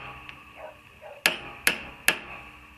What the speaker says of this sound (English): So removing the bushing, I'm just going to take the socket with the extension.